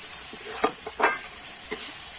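Spice paste for dudh palak, a vegetarian spinach and milk dish, sizzles in a pan as a spoon scrapes through it in a few distinct strokes over a steady frying hiss.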